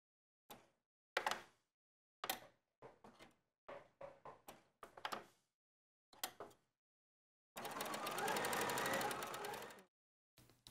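A home sewing machine stitches coat facings around a point, running in a sustained burst of about two seconds near the end after scattered thumps and handling knocks, with the fabric pivoted while the needle is down.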